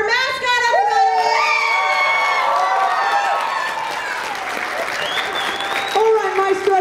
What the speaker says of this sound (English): Another round of applause for our mascot, everybody!